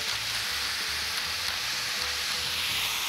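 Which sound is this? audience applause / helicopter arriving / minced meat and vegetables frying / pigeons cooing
minced meat and vegetables frying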